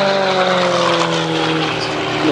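A Gamebird GB1 aerobatic propeller plane performs a flying display at Sywell, its engine droning steadily and loud, with a commentator's voice over it.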